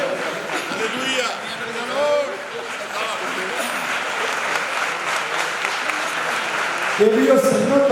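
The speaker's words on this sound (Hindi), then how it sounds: "देवी और संगत तालियां बजती हैं" A congregation at St Luke Church, Jalandhar Cantt, applauds continuously during a bishop's ordination, a close, even roar of clapping with voices talking over it and a brief swell near the end.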